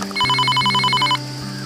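A telephone rings with a rapid, trilling electronic bell, one loud close burst of about a second that stops abruptly.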